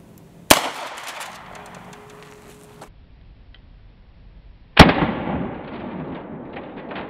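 A gunshot is fired into a stack of aluminum license plates. There are two sharp, loud cracks several seconds apart, each followed by a short decaying rattle and ring.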